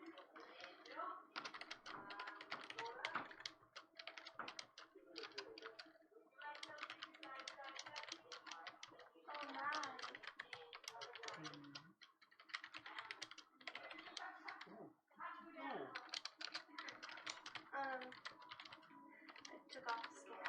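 Steady typing on a computer keyboard, bursts of rapid key clicks with brief pauses, faint and close, with people talking over it during a tabletop role-playing session.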